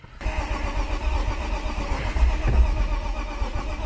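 A BMW E36 sedan's engine cranks and tries to catch, suspected of a fuel pump or fuel delivery fault, in a steady loud churning run that never quite fires up, heard close by with no voices.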